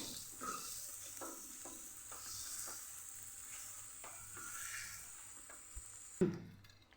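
A spoon works a vada pav potato filling around a pan, producing quiet rhythmic scraping and soft sizzling, faint and close, with a sharper clatter near the end.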